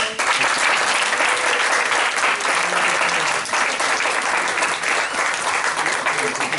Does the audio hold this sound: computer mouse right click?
no